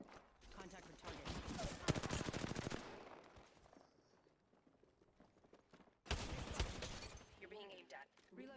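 Bursts of gunfire in the battle-royale game Apex Legends during a close fight in the Estates area, loud dense volleys in two clusters separated by a quieter gap, with a game voice speaking over the action.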